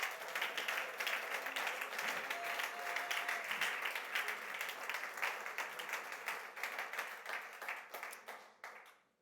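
A church congregation applauds and cheers for a sustained stretch, dense steady clapping filling the room before tapering off at the end.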